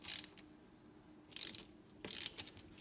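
A torque wrench ratchets on motorcycle crankcase bolts, three short bursts of clicking with pauses in between, close and moderately loud, no talking.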